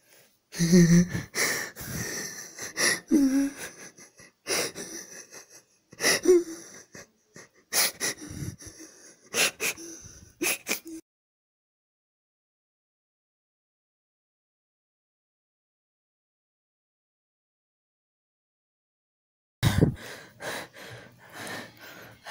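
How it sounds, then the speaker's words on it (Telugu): Heavy, ragged panting and wheezing gasps from a person out of breath after running, loud and close in rapid bursts for about eleven seconds, then silence before the breathing resumes. "అమ్మా పరిగెట్లా ఆయాసం అవుతుందిరా"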